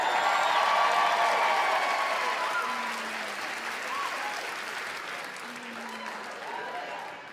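A comedy-club audience breaks into sustained applause for a stand-up comic, loud at first and then slowly tapering off while the crowd noise carries on.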